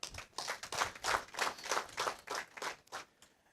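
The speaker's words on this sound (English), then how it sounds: "So clap for yourselves." An audience at an association's annual general meeting clapping, a moderately distant, steady burst of applause lasting a few seconds before fading out.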